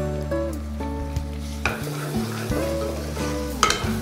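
Tomatoes, green chili, coriander and mint frying in a pot for biryani, giving a loud, steady sizzle with occasional scrapes and clinks of stirring throughout.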